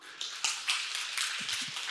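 Audience applause in a presentation hall, a broad spread of many hands clapping at moderate volume, steady throughout with a few sharper individual claps standing out.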